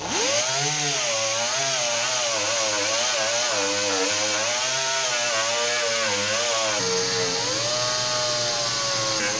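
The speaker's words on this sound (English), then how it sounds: "So, let's do a little grinding and see what we got." A power grinder runs hard on the muddy underside of a 1964 car, giving a loud, continuous high-pitched whine that wavers in pitch as it bites into the metal and then steadies near the end.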